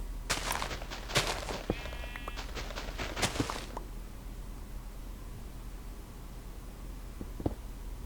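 Sheep bleating in the video game Minecraft, a few short bleats and rustling steps in the first half, then mostly quiet hiss with one brief click near the end.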